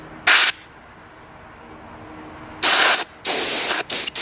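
Compressed air from a compressor blasts dust out of an iMac in short loud hissing bursts, one brief spray then a cluster of three or four bursts close by after a quiet gap.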